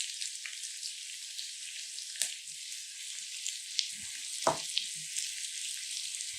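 Diced onion sautés in a hot pan, making a steady crackling sizzle with a few louder pops and one dull knock, heard close and with no voices.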